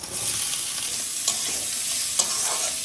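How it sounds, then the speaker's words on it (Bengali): Steady, close sizzling of onions frying in mustard oil, with a few soft stirring scrapes against the pan. "পেঁয়াজগুলোও ভাজা ভাজা হয়ে এসছে।"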